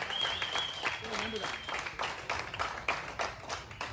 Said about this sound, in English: A big round of applause for them.